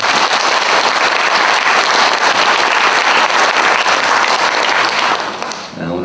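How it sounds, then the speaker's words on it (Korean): Church congregation applauding in thanks to guests at a service dedicating a new elevator; dense, loud, steady clapping fills the room, then fades toward the end. "우리 감사의 박수 하시겠습니다"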